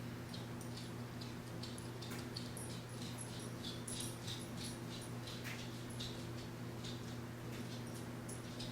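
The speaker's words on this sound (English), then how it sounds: "I hear a good dog." A dog whimpers and gives short high yips, faint and off in the distance, over a steady low hum.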